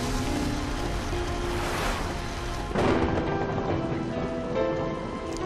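In a children's educational game, heavy rain roars as dense, continuous hiss, with a deep roll of thunder swelling midway, all loud and with no talk.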